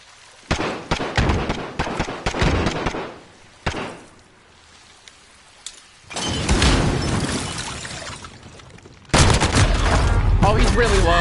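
Video game gunfire comes in loud clusters of sharp shots and sustained bursts, separated by short quieter gaps.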